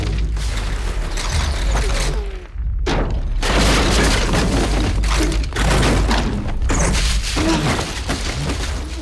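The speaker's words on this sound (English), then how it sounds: "Explosions, laser blasts, car crashes, all that fun stuff." Loud, dense booms and crashing debris rumble in heavy succession, a brief near-silent gap breaking the barrage before more blasts and smashing impacts follow.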